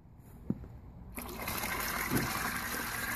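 Water poured from a gallon jug into a sprayer tank for mixing termite treatment, starting with a splash and then a steady, close gushing pour that runs to the end.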